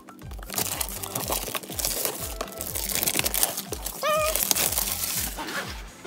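Plastic wrap being cut and pulled off a Hairdorables toy box, a close, continuous crinkling and crackling with a brief squeaky scrape partway through.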